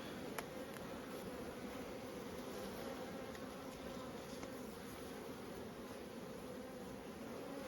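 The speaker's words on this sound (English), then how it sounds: "Now these are proper sticky bees, these ones." Honeybees buzz during a hive inspection, a dense, even drone of many bees close by, faint in level but continuous throughout with no voices.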